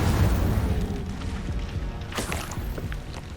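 The Incendio fire spell is cast in Hogwarts Legacy: a low, rumbling boom with a whooshing fiery burst flaring about two seconds in, then settling into a dull roar.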